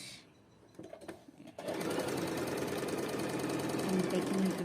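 A sewing machine stitches fabric for free-motion fabric art. A few faint clicks come first, then the motor starts and runs as a steady, loud buzzing drone to the end.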